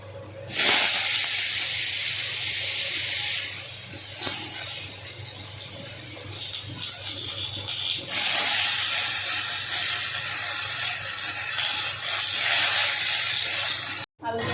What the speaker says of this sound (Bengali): তেল দিয়ে আলুগুলোকে ভেজে নেবো